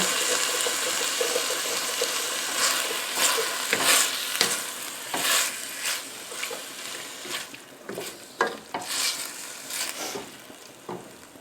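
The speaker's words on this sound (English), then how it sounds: "And then using your spoon, scrape those bits off the bottom." Diced tomatoes stirred in a pan with a spoon scraping browned bits off the bottom while making meatball sauce: a wet, steady sizzle with repeated scraping strokes and occasional clinks, close and fairly loud.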